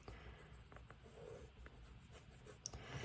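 A gel pen sketches on paper with faint, steady scratching strokes, close up and quiet under a soft room hiss.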